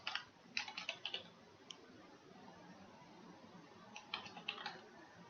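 Light keystrokes on a computer keyboard as a slot type name is entered, two short bursts of quiet clicky taps separated by a lull, faint and close with low background hiss.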